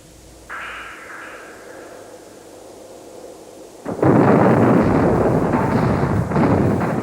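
Cannon fire at the Battle of Waterloo: a low rumble builds in the opening seconds, then a loud, sustained roar of booming artillery breaks out near the four-second mark and rolls on without a break.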